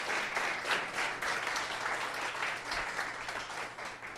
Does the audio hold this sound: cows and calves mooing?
no